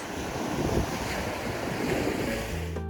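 Ocean surf rolling onto a quiet, empty beach in Mexico beside desert, a steady loud wash of breaking waves with wind noise across the microphone, no voices.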